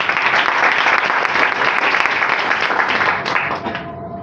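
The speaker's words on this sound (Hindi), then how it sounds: "इन दोनों के लिए ताली बजाइए।" A crowd applauding steadily, dense and loud clapping that holds for a few seconds before tapering slightly at the end.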